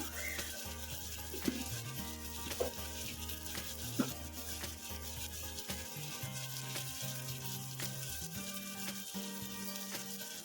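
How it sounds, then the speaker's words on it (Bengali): Spice paste for chicken curry sizzles and fries steadily in a pan, a continuous close crackle with a few brief clinks of stirring, with no talking. "মশলাটা খুব সুন্দর করে কষানো হচ্ছে"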